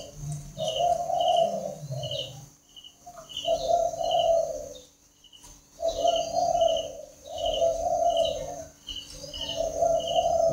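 Spotted dove chicks being hand fed with warm water mix, giving repeated soft mid-pitched begging calls in bursts separated by brief pauses, with faint high chirps and a low hum beneath, close and fairly steady.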